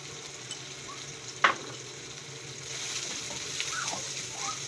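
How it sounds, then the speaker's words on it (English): Red onion sautéing in a pan for chickpea curry, a quiet steady sizzle with a sharp clink of the spoon and faint stirring scrapes, no voices. "just keep stirring until the onion is soft and sauteed."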